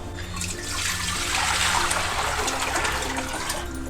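Water is poured into a cooking pot to be heated for millet flour dough, a steady broadband pouring rush that swells slightly and holds for several seconds close to the microphone, with no talking.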